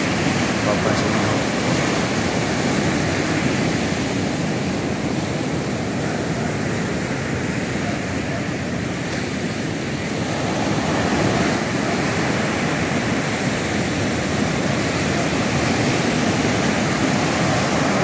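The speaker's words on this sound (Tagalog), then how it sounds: "dahil malaki pa ho ang alon." Big ocean waves crash and roar continuously at a fishing shore, a loud, dense wash of surf with no pauses.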